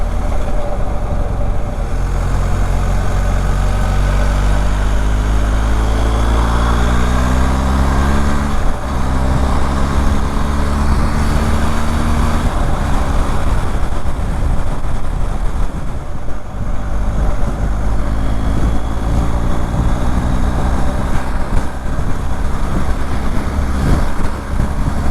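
A BMW 1250 GS motorcycle running at higher speed, its loud, steady engine drone and rising gear pitch sweeping upward several times, filling the whole stretch with no voices.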